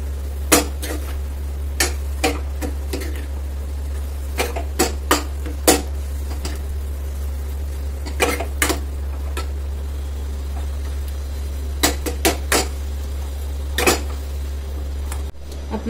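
A spoon clinks and scrapes against a metal bowl while chole is mixed with chaat masala, irregular sharp taps over a steady low hum, fairly close, with no talking.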